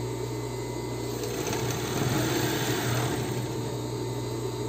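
Sewing machine running steadily as it stitches down a folded hem of about 1.5 to 2 cm on a plus-size panty, a continuous close motor hum that holds even throughout with no pauses.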